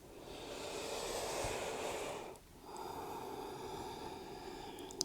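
Slow, steady breathing during a head-down forward bend in a gentle yoga flow, a long soft exhale, a brief pause, then another breath, close and quiet with no talk.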